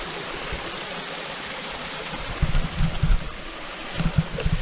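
A hillside stream gives off a steady rushing wash of running water while fresh water is collected on a hike, with a few close splashes and knocks near the end.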